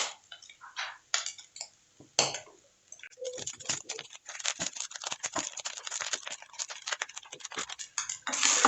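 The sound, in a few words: stirring rice in a pan for chicken fried rice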